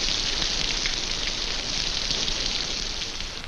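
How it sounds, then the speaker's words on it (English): Steady rain falls in a tropical jungle, a dense, even hiss of drops pattering on surfaces, continuous and close with no voices. "Even the rain works for them, filling open containers with good drinking water."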